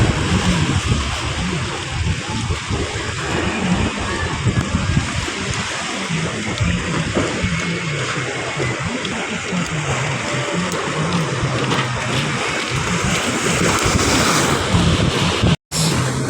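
Manila Bay waves crash and churn continuously under strong, buffeting monsoon wind that roars across the microphone, loud and close, with no voices.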